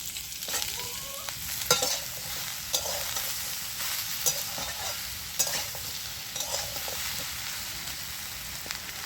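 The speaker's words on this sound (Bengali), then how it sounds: "তো ওই কড়ার মধ্যে এবার আমি চিচিঙ্গাগুলো দিয়ে দিচ্ছি, চিচিঙ্গা দিয়ে এগুলো দিয়েও আমি ভেজে নেব" Snake gourd pieces fry in oil in a kadai, a steady close sizzle broken by repeated sharp clinks and scrapes of a spatula stirring the pan, with no talking.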